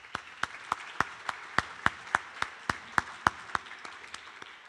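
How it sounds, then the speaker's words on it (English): A small luncheon audience at a township event claps in a sparse, evenly spaced rhythm, a dozen or so distinct claps heard fairly close without any talking. "Another round of applause for our sponsors, please"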